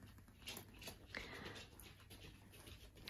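A dog panting close by in a home where a baby is being fed, with soft, quick, steady breaths, a brief whine-like tone, and quiet room noise throughout.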